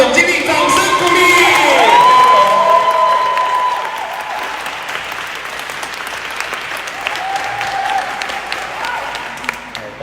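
Audience applause at a celebration banquet, a loud sustained clapping with cheers and whoops, swelling early and thinning to scattered claps, with voices mixed in.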